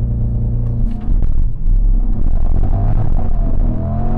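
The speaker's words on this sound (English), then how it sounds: "one of my favorite Corvette features on these is launch control, because these are dual clutches" A C8 Corvette with a dual-clutch gearbox launches hard from a standstill in traffic, its engine roaring loud and close in a sustained rising rumble for about four seconds, with a brief dip near the one-second mark.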